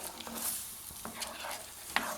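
A utensil stirs milk sauce in a pan with vegetables, making faint scraping and sloshing strokes at an uneven rhythm over a soft sizzle. No one speaks.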